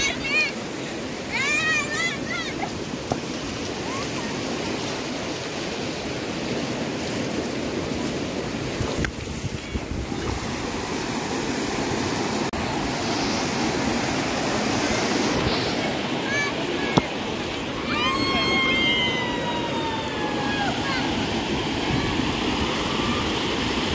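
Surf washes steadily onto Tarkarli Beach on the Konkan coast, a continuous broad roar under nearby voices of people talking and children calling out.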